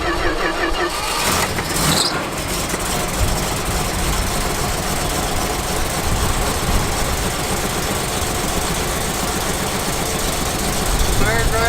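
A ramp truck's engine cranks and catches near the start, then settles into a steady idle as it warms up. The motor runs continuously underneath, and voices talk over it.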